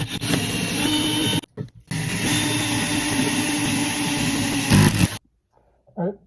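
Power drill boring into steel, a loud steady whir running about five seconds with a brief stop near the start, then cutting off into near silence with a faint knock at the end.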